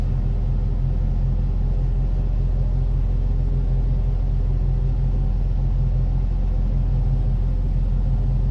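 A steady, loud engine drone with a low rumble runs without a break as power is added in an ALSIM flight simulator cockpit, and no one speaks.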